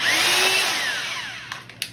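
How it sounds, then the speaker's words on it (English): A hammer drill running in hammer mode sounds as a loud, steady buzzing whine that slowly fades over two seconds, ending in a few brief sharp knocks, with no talking. "Regular drill, hammer drill, which you can hear, the actual hammer."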